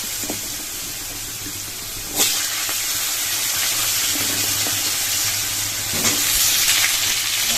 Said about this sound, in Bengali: কুমড়োটা একটু লাল লাল করে ভেজে নেবো